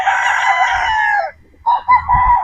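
A Boston Roundhead gamefowl rooster, around 18 to 19 weight, crows loudly and close, one long drawn-out call that cuts off, then a few shorter clucking notes.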